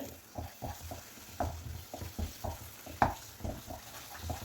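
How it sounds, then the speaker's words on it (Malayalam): Banana halwa cooked with ghee is stirred in a pan, producing a series of soft, regular scraping and slapping strokes over a faint sizzle, close and fairly quiet, with one sharper knock near the end. "ഇട്ട് കൊടുത്ത് ഒന്നുകൂടി നല്ലതുപോലെ ഇളക്കി കൊടുക്കുക."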